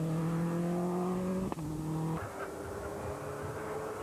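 A WRC-class rally car engine drones on a Circuit of Kerry rally stage in 2004, with a sustained tone that drops as the car slides and shifts, then rises again, heard from a moderate distance and fairly faint.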